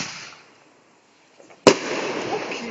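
A bonfire night firework goes off with one sharp, loud bang, followed by crackling and rumbling that trails on, after a quieter lead-in of distant noise.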